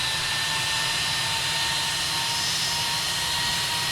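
Jet engines on a CRJ and an Embraer power up in the Tower! Simulator 3 game, a steady, loud, whooshing roar with a thin high whine that holds constant throughout.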